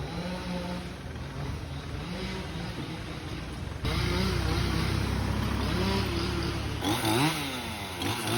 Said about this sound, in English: The guy with the chainsaw didn't have any safety equipment.